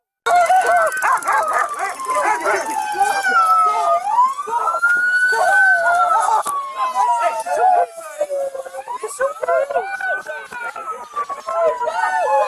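A police dog barks repeatedly and loudly while a wailing police siren rises and falls nearby, with shouting voices over the chaotic scene.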